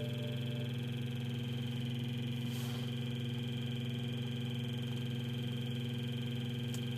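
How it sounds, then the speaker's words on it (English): A vehicle engine idles with the radio on, giving a steady, unbroken low hum with a buzzing mid-pitched drone layered over it, constant in level and with no talking. "Engine's back on again."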